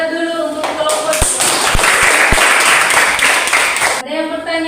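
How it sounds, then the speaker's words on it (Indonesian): A student group in an Indonesian classroom gets a burst of applause lasting about three seconds, with a few sharp claps standing out from the rest. Voices can be heard just before and after the clapping. "Tepuk tangan dulu untuk kelompok"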